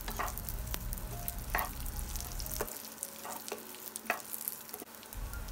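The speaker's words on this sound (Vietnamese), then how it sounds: "Và mình đảo sơ ha, làm như vậy thì khô sẽ có mùi thơm hơn." Dried salted fish and garlic are stir-fried in a hot pan, giving a steady sizzle broken by repeated scraping stirs of the spatula at an even rhythm.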